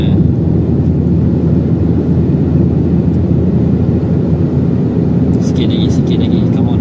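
A Proton Saga 1.5 automatic pulls hard in third gear, a loud steady engine and road roar heard from inside the cabin, with a voice talking over it.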